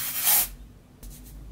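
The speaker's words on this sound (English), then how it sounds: "just spray a bit of Batiste. And you just wanna spray a bit of this into the roots." A short, close hiss of Batiste dry shampoo sprayed into hair roots, one strong burst followed by a fainter second puff.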